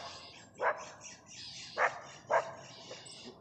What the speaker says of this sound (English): That's a dog in the background,